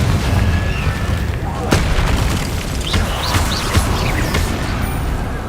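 Repeated booming blasts from the Confringo spell in the video game Hogwarts Legacy, several heavy explosive bursts over a dense rumbling backdrop with a voice calling out between them.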